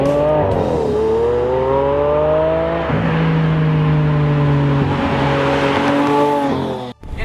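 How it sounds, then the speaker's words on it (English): A Lamborghini Aventador Roadster accelerates hard, its engine roaring loud and close through rising revs that rise, drop at each gear change and climb again, ending in a sudden cut near the end. "I have never driven a car that pulls as hard and as violently as the Lamborghini Aventador."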